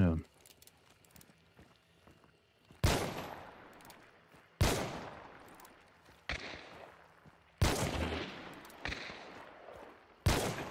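Gunfire in Hunt: Showdown, with single loud gunshots spaced a couple of seconds apart, each trailing off in a long echoing decay, and quiet game ambience between them.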